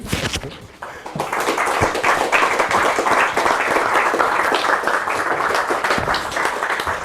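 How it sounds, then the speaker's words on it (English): An audience at a book launch party breaks into applause after a brief quiet moment. The clapping swells quickly into a dense, steady ovation and holds strong to the end. "So, big applause for Archipelago."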